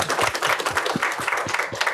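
Loud, dense applause from the audience at a Women's Day panel event on a stage, a continuous roar of many hands clapping quickly, close and full throughout.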